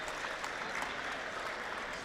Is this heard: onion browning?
no